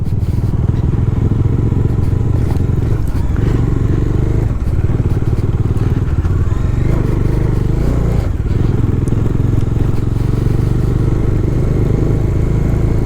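Motorcycle ridden in first gear on a hill road near Bangalore, its engine droning loud and steady with road rumble and occasional clatter throughout.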